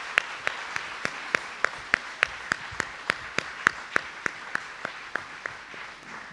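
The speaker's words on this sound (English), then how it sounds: "can we have a huge round of applause?" An audience at a school annual day show applauds in a big indoor hall. A steady wash of clapping runs under a sharp, regular beat of louder claps, with no voices.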